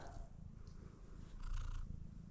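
A cat purrs softly and continuously in a farm setting during a snowy day, a low, faint rumbling drone with quiet background noise and no talking.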